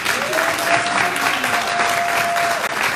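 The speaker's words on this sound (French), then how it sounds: "On acclame le monsieur." A church congregation bursts into loud, dense applause that carries through the whole moment, with a sustained held tone sounding behind the clapping.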